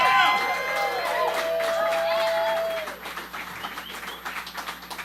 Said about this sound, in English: Can we cheer for Nick?